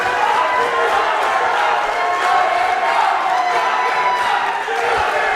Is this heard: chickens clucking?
no